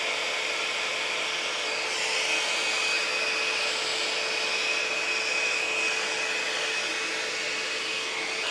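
A Shark FlexFusion hair dryer blows on curly hair with a loud, steady whooshing roar that holds evenly from start to finish, with no talking.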